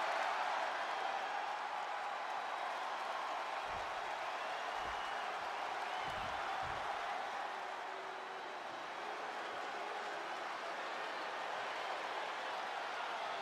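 Steady roar of a video game arena crowd in WWE 2K24 during a Raw episode in Universe Mode, a dense, constant wash of cheering with a few low thumps partway through.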